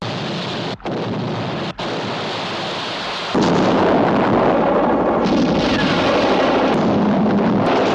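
A special-effects explosion set off in a studio water tank breaks out as a sudden loud, rumbling roar after a quieter hiss, then holds as a sustained, thundering churn.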